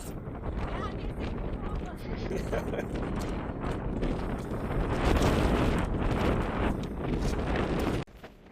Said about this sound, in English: I left the wind noise in here just to give you an idea and help add to your experience.